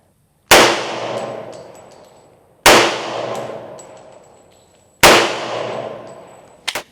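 Three loud gunshots from a Hi Point JHP .45 pistol fired with old ammunition, each a sharp close crack with a decaying ring, spaced about two seconds apart, followed by a faint metallic clink.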